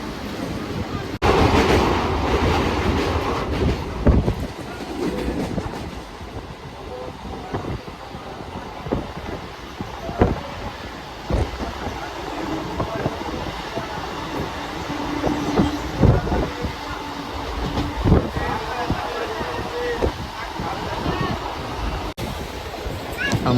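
A Howrah-Bardhaman local train runs on the main line with continuous rumbling and rattling of wagons, with clicking track noise and occasional surges, heard from inside the carriage.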